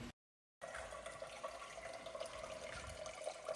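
Water pours steadily from a drinking-water dispenser at a German university, a continuous hissing stream that begins after a brief silence and runs evenly at moderate volume with no one speaking.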